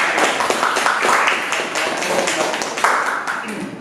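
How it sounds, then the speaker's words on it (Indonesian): Scattered applause from a seated group in a classroom after a student team's presentation, a dense run of hand claps filling the whole stretch at moderate loudness with voices mixed in. "kita kasih tepuk tangan untuk"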